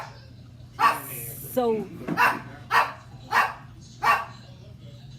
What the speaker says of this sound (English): If anybody want a dog, a Papa Remy, you let me know. You can have this one.